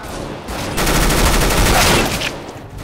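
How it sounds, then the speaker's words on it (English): A Gatling-like machine gun fires in the video game CS:GO, producing a loud, close, rapid continuous burst that swells partway through and carries on to the end. "This is like pretty much a Gatling."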